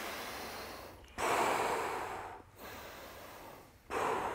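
Deep breaths during a foundation training breathing exercise, with three long, loud, close airy inhales or exhales, each separated by a short pause.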